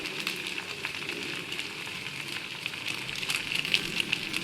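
Ivy gourd (kundri) fries in a pan with a steady, close sizzle and light crackle, and soft stirring scrapes can be heard throughout.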